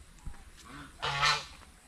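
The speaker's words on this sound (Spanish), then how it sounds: "Por ahí andan los patos gansos." Geese honk near a humble forest home by a washing spot, one short call followed by a louder, drawn-out honk that peaks and fades, set against quiet outdoor background.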